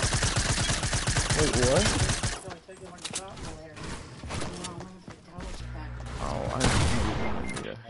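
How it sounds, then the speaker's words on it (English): Rapid bursts of gunfire from a squad-based shooter video game crackle loudly in dense volleys, with excited voices talking over the shooting. "I was shooting at him the whole time."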